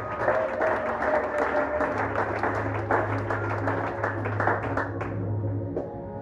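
A church congregation applauds together in a sustained, dense burst of clapping that fills the room, close and loud, tapering slightly toward the end.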